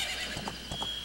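Epona the horse in the video game Majora's Mask gives a short game-sound whinny with a couple of hoof clops, clear and close against a steady electronic background hum.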